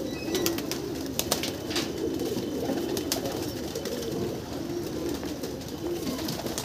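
A flock of kept pigeons settles on a rooftop and coos softly and repeatedly over a steady outdoor background hiss, with a few faint clicks scattered through.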